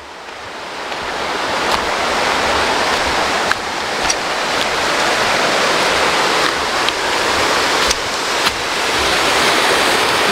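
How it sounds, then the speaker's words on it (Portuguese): A small waterfall pours steadily at a trail near the Baependi hydroelectric plant, a loud continuous rushing and splashing close to the listener, with no one speaking. "Aí temos aqui uma quedinha d'água."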